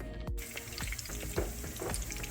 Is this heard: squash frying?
yes